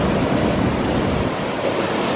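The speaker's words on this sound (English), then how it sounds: "Perhaps the waves were thought to make a singing noise." Ocean waves rolling into a small rocky Cornish cove, a dense, steady roar of surf and wash, close and continuous with some wind buffeting the microphone, no voices.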